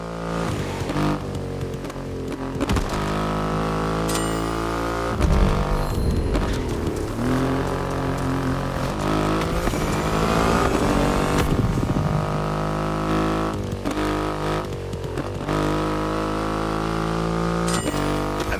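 Triumph Rocket 3 motorcycle with a 2.5-litre engine in The Crew Motorfest racing game, its engine droning and revving continuously throughout, loud and near with shifting pitch, with no talk.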